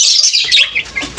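A single short, bright pigeon call, chirpy and near, sounding briefly on its own.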